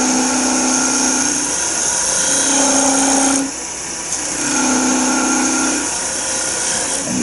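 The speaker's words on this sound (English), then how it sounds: "So we'll do first, I'll make a cut with the scraper." Powered rod scraper cutting wood, a loud steady motor whine rising and falling in long strokes with a brief dip between passes, close and alone.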